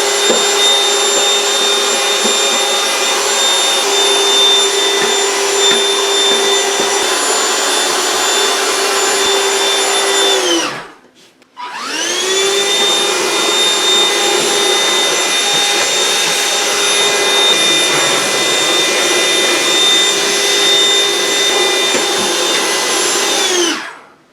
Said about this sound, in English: get yourself a vacuum cleaner with an attachment, and then just go in there